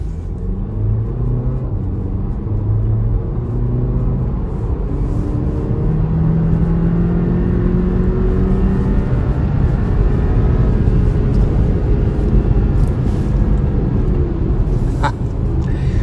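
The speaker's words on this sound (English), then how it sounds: "Give a little rip of the Macan base, if you will." A 2018 Porsche Macan with its base engine revving and accelerating, a steady close low-pitched rumble with rising engine tones that holds level for about sixteen seconds, no talking over it.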